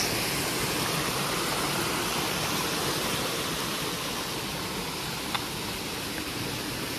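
Water rushes in a steady, unbroken roar, a flowing stream in rural Konkan heard up close, with no voices.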